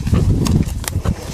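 A horse's hooves thud and shuffle on the ground during groundwork handling, a few close, heavy steps in quick succession with no talk over them.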